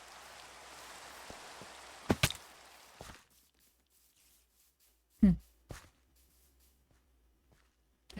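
Rain falls in a video game as a steady hiss that fades out after a couple of seconds, followed by a few sharp thumps and clicks in near silence.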